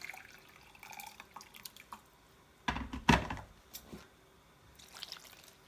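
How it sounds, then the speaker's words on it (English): Water poured into a pan for steaming wool fabric while spot dyeing, a short splashing gush in the middle between quiet drips and small clinks, close and fairly soft. "So I'm going to add some more water in there."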